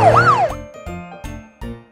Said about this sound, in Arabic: انظروا يا أطفال، هذه سيارة شرطة.